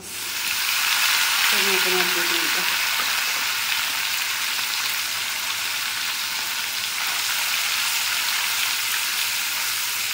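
Small fish sizzle hard in hot oil in a wok, a loud, continuous crackling hiss that swells early and then holds steady, with a brief voice near the start.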